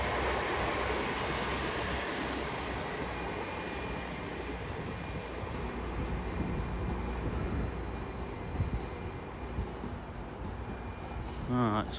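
An Intercity Express Train, a class 802 unit, rumbles into Exeter St Davids station, its steady broad roar holding loud and close throughout with brief clanks near the end.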